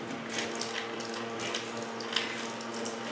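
Gasoline drains from a Toyota Solara fuel tank in a steady, faint splashing trickle that runs without a break.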